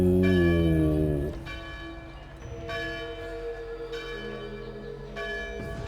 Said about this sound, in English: The bells are ever going to stop ringing.